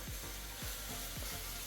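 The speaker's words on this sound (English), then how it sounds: "The sizzling you hear in the background will be my dinner" Dinner frying in a home kitchen makes a faint, steady sizzle, heard alone with a few soft rhythmic clicks.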